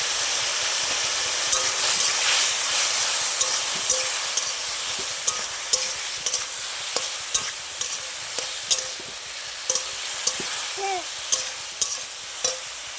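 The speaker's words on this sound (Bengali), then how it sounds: "কুমড়োটা ভাজা হয়ে গেছে" Pumpkin slices fry in a pan with oil, salt and turmeric, giving a steady broad sizzle throughout, broken by regular light clicks of stirring or turning; no talking.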